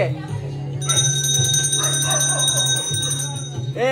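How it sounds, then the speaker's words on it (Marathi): A bell rings with a sustained, shimmering metallic tone, sounding steadily while people talk over it. "घंटी वाजो की"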